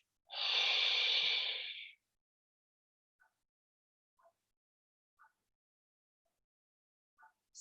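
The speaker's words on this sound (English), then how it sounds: "taking a long breath, yeah, deep long breath through your nose" One long, deep breath drawn in through the nose during a yoga session, heard up close and alone, followed by a few faint, brief sounds in near silence.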